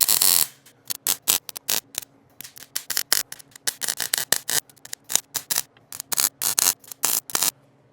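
Hand shears or snips chop through the rusted steel floor pan of a 1941 Mercury in a rapid series of loud, sharp metallic cuts, close and rhythmic with brief gaps between strokes.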